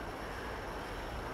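Tractor engine running away out of control, a loud continuous roaring drone heard close up and unbroken, with no talk over it.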